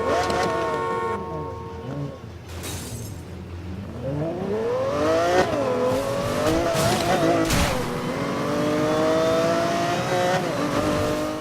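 One of the fastest cars in a video game accelerates hard, its engine pitch sweeping up through repeated gear changes while tires squeal and skid; loud and close, with faint talk beneath.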